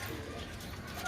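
Pigeons cooing at a distance, soft and faint low coos over a dull background hiss, with no voices.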